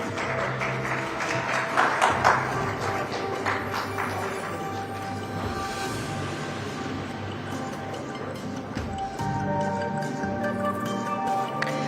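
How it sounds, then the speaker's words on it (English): Steady audience applause for Ms. Amruta Fadnavis at the India Today Mumbai Conclave, a dense wash of many hands clapping throughout, swelling early and carrying on at an even level with a faint tonal hum beneath. "Once again, do raise a warm applause for her."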